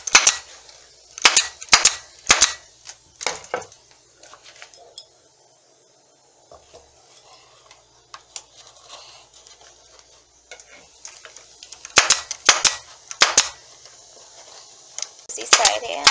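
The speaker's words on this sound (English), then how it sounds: "I'm just stapling it down." A staple gun fires into fabric stretched over a foam chair seat, sharp snapping clacks in quick clusters, a quieter stretch with faint handling noises, then another burst of staples, close by.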